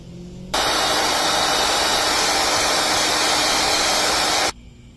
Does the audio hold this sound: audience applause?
no